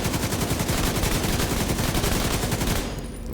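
Rapid automatic gunfire with bleed bullets in The Division 2, a dense loud burst of shots running continuously for about three seconds before cutting off.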